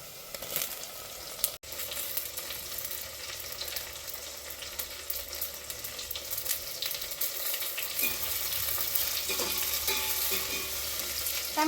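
Chopped tomatoes and onions fry in hot oil for a brinjal and egg curry, giving a steady close sizzle with occasional stirring scrapes and one sharp knock near the start.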